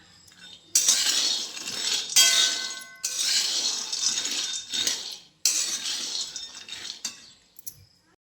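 Peanuts dry-roasting in a metal pan, stirred repeatedly so they rattle and clink against the pan in several bursts separated by brief pauses, close by with no talk.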